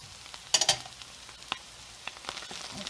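Spinach and spring onions tossed into a pan with lightly browned ingredients, giving a quick sharp sizzle burst near the start, then scattered stirring scrapes and soft crackles at moderate volume, with no talk.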